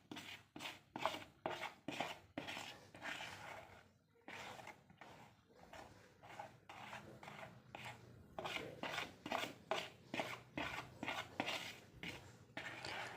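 Red cement paste is mixed by hand, making rhythmic wet rubbing and scraping strokes, quiet and close, repeating in uneven bursts with a short pause partway through.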